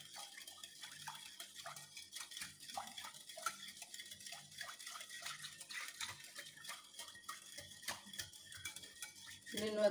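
Yeast and sugar being mixed for Turkish bread dough: a utensil lightly clinks and scrapes against a bowl in quick, uneven strokes, faint and close, with a brief louder clatter at the end.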